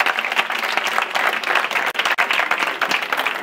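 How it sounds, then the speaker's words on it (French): Dense, steady applause from an audience at a team presentation event, a continuous wash of many hands clapping at close range with no clear gaps. "Alors on les applaudit aussi, c'est les deuxièmes."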